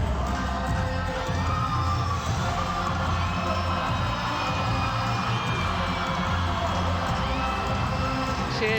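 Steady, dense roar of a large crowd cheering at a netball youth world cup opening ceremony in Gaborone, Botswana, continuous and loud throughout with a low rhythmic throb underneath.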